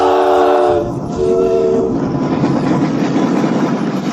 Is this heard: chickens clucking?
no